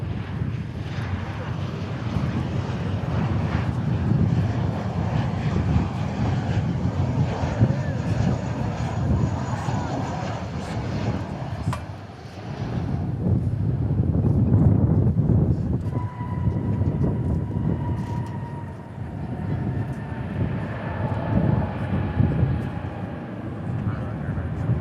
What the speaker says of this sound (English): Oh, and Iberia is landing on the east side too.